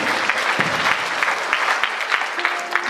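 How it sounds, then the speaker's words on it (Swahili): A church congregation claps together in a dense, sustained burst of applause. Scattered louder hand claps stand out near the listener, and a voice is faintly audible under the clapping. "Pigia Bwana Yesu makofi huko juu."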